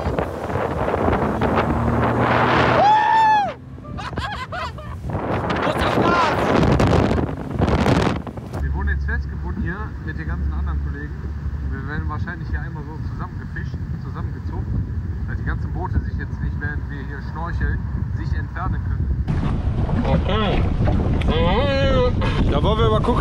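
A jet ski rides over the sea in Mexico, its engine droning steadily beneath heavy wind buffeting the microphone and water splashing, with people talking over the noise throughout.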